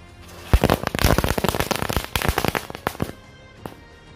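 Diwali firecrackers going off in a rapid, crackling string of sharp pops that thin out to a few scattered bangs at the end, loud and close.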